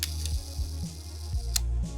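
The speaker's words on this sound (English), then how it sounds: "you can actually hear a gear in there keeping the shutter open" Gear train of a Yashica Mat LM twin-lens reflex camera's mechanical shutter timer whirring steadily for about a second at a 1-second shutter speed, close and clear, bracketed by the sharp clicks of shutter release and closing.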